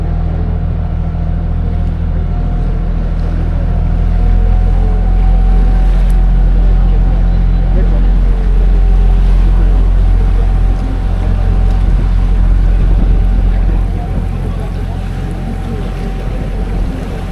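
Tour boat motoring along a canal in Bruges, a steady close engine hum with a thin constant whine, water and wind noise beneath, faint voices in the background.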